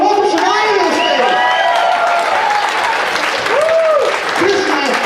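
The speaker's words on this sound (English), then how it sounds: "The audience is going to give you a big round of applause." Big round of applause from a live audience welcoming a performer named Shania to the stage, steady dense clapping and crowd noise throughout, with high voices and tonal sounds riding over it.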